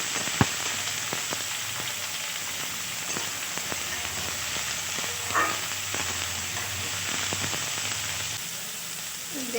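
Chopped beans and carrots frying in a pan give a steady, close sizzle that carries evenly throughout, with a few soft stirring clicks and no voices.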